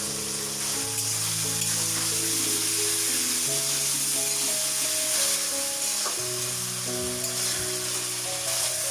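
Chopped tomatoes fry in oil in a pan, giving an even, close sizzle with soft stirring scrapes running steadily throughout, no voices.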